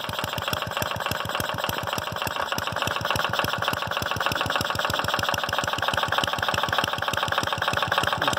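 A 1937 Briggs & Stratton Model WM small engine fitted with a homemade muffler runs steadily, its loud, close exhaust putting out rapid, even popping pulses with no talk over it.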